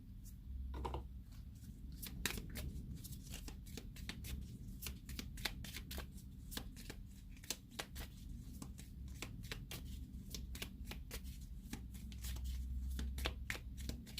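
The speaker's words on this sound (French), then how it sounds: "Je rajouterais bien une petite carte là avec l'oracle de Charlie." Oracle cards are shuffled by hand, a dense, continuous riffling flutter of crisp card slaps heard close and steady throughout.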